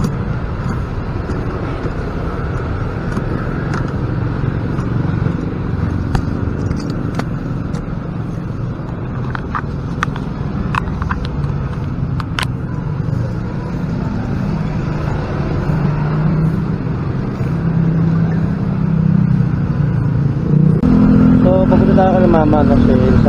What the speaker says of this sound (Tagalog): Grabe, sobrang traffic na talaga.